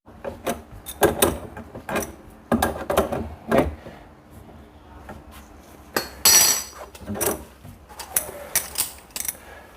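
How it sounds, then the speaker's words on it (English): Metal clanks, taps and scrapes of a spanner tightening the pipe nut on a cold kitchen tap, coming as irregular close knocks and clinks with quiet gaps, one longer bright scraping burst partway through. "I could easily come in with a spanner just to give it a tighten."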